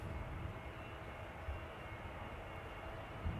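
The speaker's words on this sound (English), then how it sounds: "next up, SAS A320neo, arriving from Stockholm" An SAS Airbus A320neo arriving from Stockholm at Schiphol Airport gives a steady, distant, low jet engine roar that holds at a faint, even level throughout.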